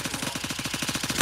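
Rapid automatic gunfire in the tactical shooter Gray Zone Warfare, a steady fast burst of evenly spaced close, loud shots lasting over a second.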